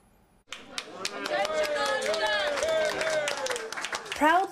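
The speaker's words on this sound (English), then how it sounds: "greeted by cheers and applause" Cheers and applause from a crowd fill the room, steady clapping with excited whoops and shouts swelling toward the end.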